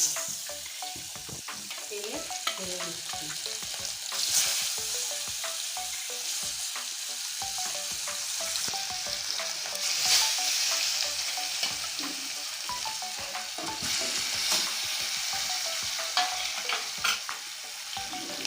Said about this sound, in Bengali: তেলটা গরম হয়ে গেছে আমি এখন নুন হলুদ মাখানো মাছটা আমি লাল করে ভেজে